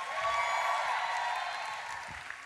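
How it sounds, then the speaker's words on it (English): Audience applause at a live comedy show, steady sustained clapping and crowd noise that gradually tapers off, with a faint tone running underneath. "round of applause, he's holding it down"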